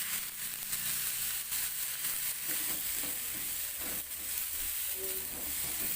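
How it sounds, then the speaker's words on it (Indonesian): Ground spice paste sautéing in a reduced amount of oil, with a steady, dense sizzling hiss that holds even and close throughout, and no talking. "Tumis bumbu hingga matang supaya enggak langu"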